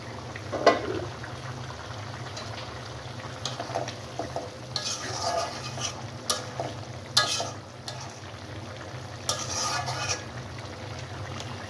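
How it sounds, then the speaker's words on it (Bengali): Eggplant and egg curry gets stirred in a pan after the lid comes off. A low simmering bubble runs underneath, broken by scattered scraping clinks of the spoon, fairly quiet and close, with no talking. "এখন ঢাকনাটা একটু খুলে আবারও নেড়ে দিব"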